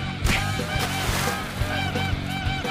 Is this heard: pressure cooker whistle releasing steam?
no